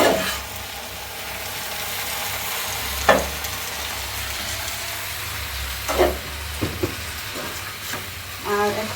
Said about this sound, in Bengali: এখন নাড়াচাড়া করে দিই।